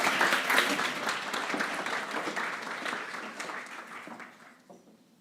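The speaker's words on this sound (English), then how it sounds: "Give a round of applause for Team HUS." A gala audience applauds a team taking the floor, a bright burst of clapping that starts full and steadily fades away into quiet over about five seconds.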